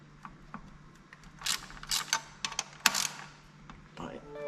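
A ratchet works loose the size 12 bolts on a car's throttle body, giving bursts of close, crisp clicking and metallic ratcheting with pauses between strokes.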